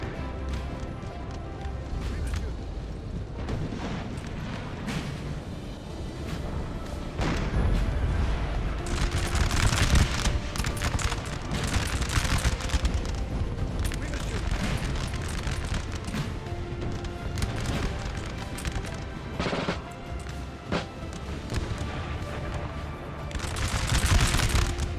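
Napoleon: Total War battle din with repeated musket volleys and booming artillery, dense and continuous, with crackling bursts and heavy thumps layered over a constant roar of fighting.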